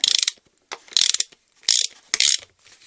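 A ratchet clicks in short quick bursts while tightening a bolt on a BMW E30 power steering rack, four close, loud runs of clicking separated by brief pauses.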